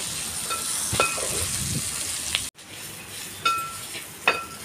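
Garlic cloves and onion frying in oil in a pan for a bitter gourd dish, with a steady close sizzle, a few light clinks of a spoon against metal and an abrupt pause midway.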